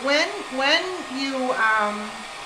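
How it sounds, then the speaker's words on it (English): Talking runs over the constant airy rush of a blow dryer drying a chalk transfer. The dryer stays in the background behind the voice the whole time. "Let me grab my blow dryer, and I'm going to dry this."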